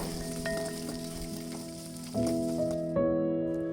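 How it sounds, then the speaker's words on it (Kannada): Finely chopped onions roast in a hot pan, giving a steady, close sizzle and crackle throughout, with faint tonal background sound underneath. "ನಾನಿವಾಗ ಸಣ್ಣದಾಗಿ ಹೆಚ್ಚಿಟ್ಕೊಂಡಿರೋ ಈರುಳ್ಳಿನ ಹಾಕ್ತಾಯಿದ್ದೀನಿ. ಈರುಳ್ಳಿನ ಹಾಕ್ಕೊಂಡು ರೋಸ್ಟ್ ಮಾಡ್ಕೋಬೇಕು."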